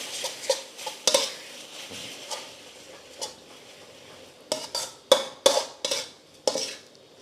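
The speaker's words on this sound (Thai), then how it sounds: "ผัดให้น้ำมันมันเคลือบเส้นนะครับ พยายามผัดให้เร็วอย่าผัดนาน" Korat instant noodles are stir-fried quickly with oil in a pan: a spatula scrapes and clatters against the metal in irregular bursts, loud and close, over a soft sizzle.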